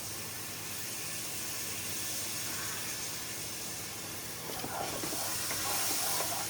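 Vegetable stock hits a hot pan with a steady loud hiss and steam sizzle, swelling slightly toward the end as the liquid spreads; no talking over it.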